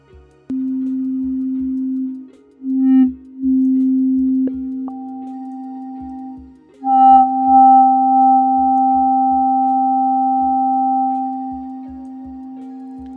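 An FM synthesizer tone passed through a low-pass filter with moderate resonance and drive, heard as a steady sustained pitch that breaks briefly, shifts and resumes, with soft low clicks pulsing beneath it throughout.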